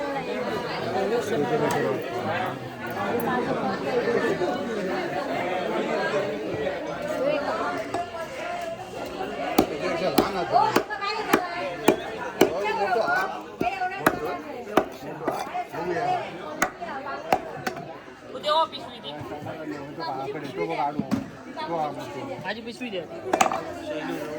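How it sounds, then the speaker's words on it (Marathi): Quick sharp chops of a knife slicing through food on a board, irregular at first and then denser, set against steady crowd chatter and voices nearby. "एकदम स्लाइसमध्ये कापा"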